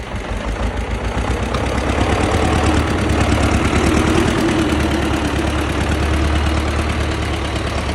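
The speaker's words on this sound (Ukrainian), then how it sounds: "Так, трактор по моторі, питань нема, тиск тримає гарно, не димить, не сапонить" A homemade tractor fitted with a 1.9 turbo engine idles steadily and loudly up close, its low, even chugging rumble carrying on unbroken with no talk over it.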